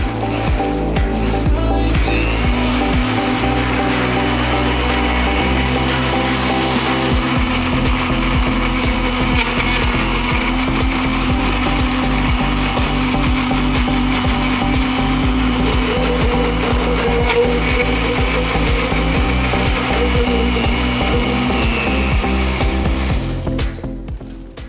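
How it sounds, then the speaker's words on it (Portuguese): Garlic cloves whir in a blender, a loud, continuous motor drone with rattling chops and shifting pitch that runs nearly 25 seconds before cutting off at the end. "Coloca aqui os dentes de alho e vamos batendo aqui."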